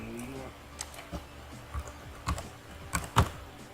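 Someone types the word "profil" on a computer keyboard, producing a handful of sharp, separate key clicks that grow louder toward the end over quiet room noise.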